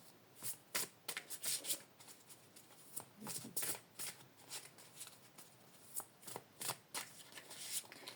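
Oracle message cards are shuffled close by in a quick, steady run of crisp riffling bursts.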